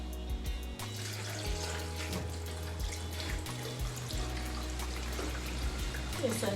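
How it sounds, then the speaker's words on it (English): Water splashes and trickles steadily into a blender holding fruit and ginger for several seconds, with low rumbling handling noises underneath, close and moderately loud. "I'm gonna add some water."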